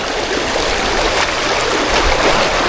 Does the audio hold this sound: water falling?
yes